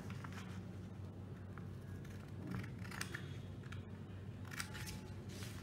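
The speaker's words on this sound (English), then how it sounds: "So let's take our scissors, but then be careful when you're using them because they're pretty sharp." Scissors snip through origami paper in a series of soft, quick cuts, faint and close, over a low steady background hum.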